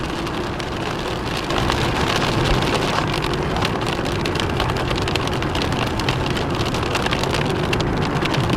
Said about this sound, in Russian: Чем ближе к городу, тем дождь становился все сильнее.